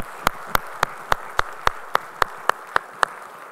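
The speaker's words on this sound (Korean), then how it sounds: "우리 하나님께 영광의 박수 올리겠습니다" A church congregation at a Sunday service claps together in a slow, even rhythm of about a dozen crisp, loud beats, with no talking between the claps.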